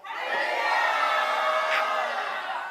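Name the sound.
crowd cheering and shouting hallelujah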